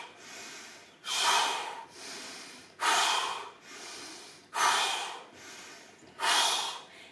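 Four strong exhalations during a vinyasa yoga flow, each a loud breathy whoosh, alternating with softer inhalations in an even, slow rhythm.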